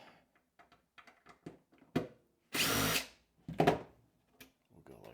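A power drill whirs in one loud burst of about a second, with another short burst after it, amid clicks and handling noises.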